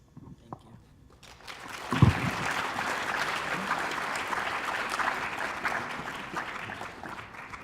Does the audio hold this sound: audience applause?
yes